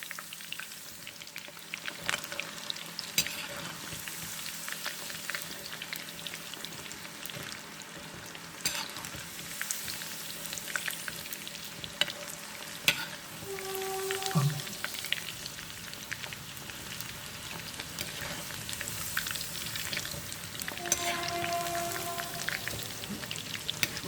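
Chilly chicken fries in a pan over a small burner, giving a continuous soft crackling sizzle with scattered pops, fairly quiet and close, with no voices.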